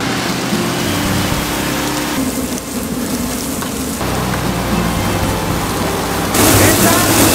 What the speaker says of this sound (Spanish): Acción, lluvia.